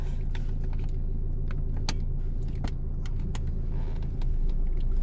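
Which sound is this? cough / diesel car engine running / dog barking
diesel car engine running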